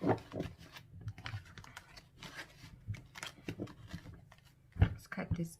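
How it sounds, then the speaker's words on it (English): A tarot card deck is shuffled in close, uneven bursts of papery clacks and riffles, with a voice talking intermittently alongside. "Okay, one more shuffle."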